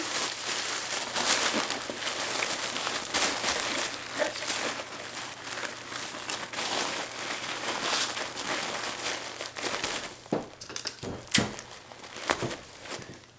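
Paper and plastic crinkle and rustle steadily up close as soap samples, an invoice and a business card are packed into a parcel, with sharper crackles and handling knocks toward the end.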